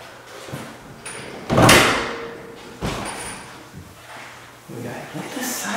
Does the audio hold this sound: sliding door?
yes